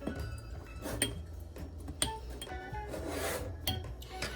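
Old paint brushes worked in Murphy's Oil Soap, close scrubbing and rubbing with repeated clicks and taps of bristles and handles against a container.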